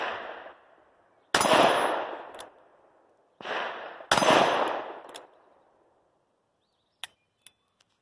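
Ruger Wrangler revolver firing 125 grain lead bullets: two loud, close shots a few seconds apart, each ringing out into a decay, followed by a few faint clicks.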